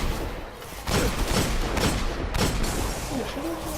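Gunfire in the Destiny video game comes in rapid bursts of sharp shots over a dense, noisy game soundscape.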